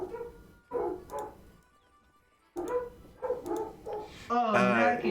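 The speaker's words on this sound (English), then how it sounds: "I can hear the dogs now" Dogs bark in short bursts of several yaps, moderately near, with a brief higher whining or yelping run near the end; pauses of quiet separate the groups.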